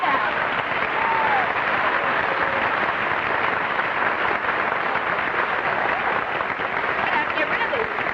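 Studio audience applause on a 1950 television dance show, a steady, dense roar of clapping that holds at an even level for the whole stretch, loud and close with no pauses.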